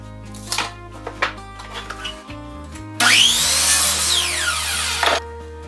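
While building a chicken run, a few light knocks and taps on wood come first, then a power drill drives a screw into timber with a loud, sustained whirring grind that winds down after about two seconds.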